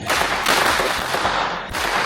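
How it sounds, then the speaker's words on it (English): Firecrackers crack in quick, loud bursts outdoors, a dense rapid volley of sharp pops with a brief lull before another burst, and no talking. "It's some firecrackers are cracking"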